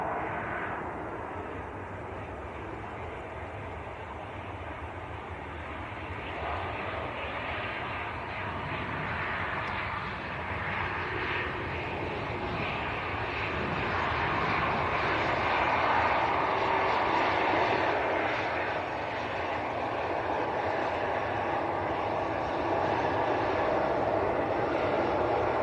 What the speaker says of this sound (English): EasyJet from Barcelona.